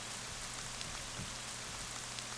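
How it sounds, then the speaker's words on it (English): Rain falling indoors in the video game Ib, a steady dense hiss of rainfall with faint scattered drop patters, continuous and even throughout. "It started raining in the room."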